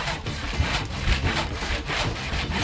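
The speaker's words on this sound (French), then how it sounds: "J'ai agrandi ma scie. Je vais ouvrir cette noix de coco en un rien de temps." A hand saw rasps back and forth through a hard coconut shell in quick, even strokes, close and fairly loud, with no talk.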